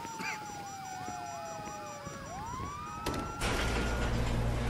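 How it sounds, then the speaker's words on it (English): Wailing police sirens in Grand Theft Auto V sweep up and down in overlapping tones, loud and close, followed by a burst of rushing noise near the end. "You hear that? Sirens!"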